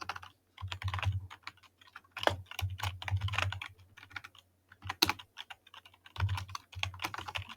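HTML code is typed on a computer keyboard nearby in quick bursts of crisp key clicks, separated by short pauses, with a low electrical hum under the louder stretches.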